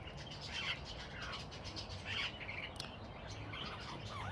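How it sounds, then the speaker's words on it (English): Three caged lovebirds on abbey grounds chirp and squawk in a busy, overlapping chatter of short calls, heard at moderate distance over steady outdoor background noise. "there's a few birds here in cages, and these are lovebirds"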